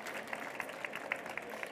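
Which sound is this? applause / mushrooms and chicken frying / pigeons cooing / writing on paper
applause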